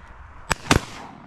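Two sharp shotgun blasts crack out in quick succession outdoors during a duck and snipe hunt with teal flying in, each a brief loud report with a short fading tail.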